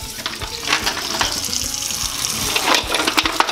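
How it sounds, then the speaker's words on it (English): Cold tap water runs into a bowl of fresh clams during seafood prep, a steady splashing gush close by with the rattle of shells shifting underneath. "Now we're actually going to add fresh cold water,"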